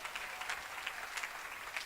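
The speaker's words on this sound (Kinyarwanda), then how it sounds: "mukomere Imana amashyi" A church congregation applauding together, a steady wash of clapping that holds at an even level throughout, sounding moderately distant and filling the room.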